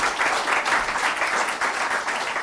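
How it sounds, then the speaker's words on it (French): Conference audience at a colloquium applauds Olivier Schrameck, a full, even roar of many hands clapping that holds steady throughout without speech. "Je pense qu'on peut applaudir Olivier Schrammeck."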